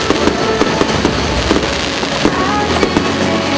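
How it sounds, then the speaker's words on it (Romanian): A New Year fireworks display over Piața Unirii fills the air with a dense, continuous barrage of crackling bangs and sharp pops, loud and steady throughout. "Fotografiază incredibilele jocuri de artificii."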